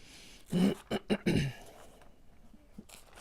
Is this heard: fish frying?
no